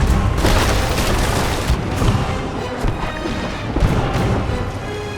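Heavy ship cannons boom in a Sea of Thieves naval battle against an opposing faction ship, dense overlapping blasts and crashes rolling continuously with a loud, thick low end and no pauses.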